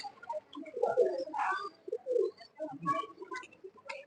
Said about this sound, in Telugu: ఆహా ఎన్ని పావురాలు ఉన్నాయి.